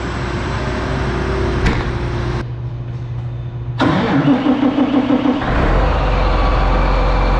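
A vehicle engine on a cold morning on a farm test plot cranks, catches and starts with a loud rise, then settles into a steady, close-up idle as it warms.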